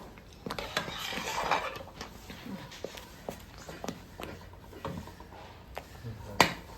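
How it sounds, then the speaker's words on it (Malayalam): A spoon stirs shallots frying in a pan for a medicinal Canthium-leaf preparation, giving light scrapes and metallic clinks at an irregular pace, fairly close and quiet. "നമുക്ക് ഈ ചെമ്പ് ഉള്ളിയിലൊക്കെ ആകുമ്പോൾ നമുക്ക് ഇഷ്ടമനുസരിച്ച് ഇളക്കി കൊടുക്കാം."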